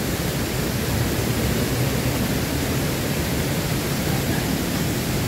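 Reddish, murky water pours down the Pa Ba waterfall in a constant, loud, hissing rush, close by and unbroken, with no talking over it.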